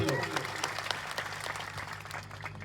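An outdoor rally crowd claps steadily for the police officers present, the applause dense but moderately distant, with voices mixed in.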